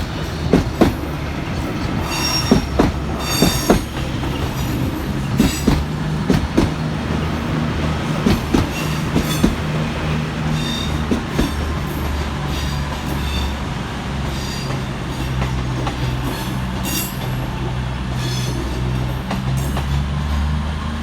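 Rush-hour trains at Manchester Piccadilly station: a steady rumble of rolling stock with clattering wheel knocks and intermittent squeals, a busy station ambience throughout with no talking.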